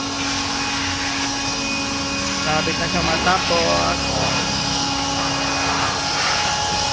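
A vacuum cleaner runs steadily inside a car's interior during a carwash clean-up, a constant close whine and roar throughout, with someone talking over it.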